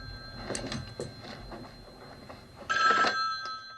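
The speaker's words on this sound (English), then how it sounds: "The phone call's coming from upstairs." A telephone rings in a 1978 Halloween horror movie scene, an electronic bell trilling in short bursts with a louder ring near the end, over faint background clatter.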